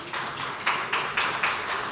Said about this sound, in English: a big round of applause to our panelists